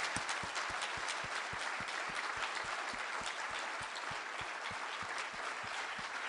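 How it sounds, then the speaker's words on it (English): An audience at a conference panel session applauds steadily throughout, dense clapping with a faintly regular rhythmic pulse, sustained and fairly loud. "Let's give them a big round of applause."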